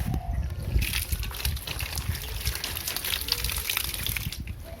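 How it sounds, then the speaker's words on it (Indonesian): Water poured from a watering can onto potted ornamental plants, a steady close splashing and trickling stream that continues throughout without pause. "Mari kita siram menggunakan siram yang tadi adekku bawa itu."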